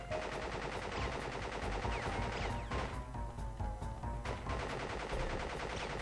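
Enemy gunfire in Crash Bandicoot crackles as dense, rapid bursts of shots, loud and close, pausing briefly midway before the firing resumes over a busy game soundtrack.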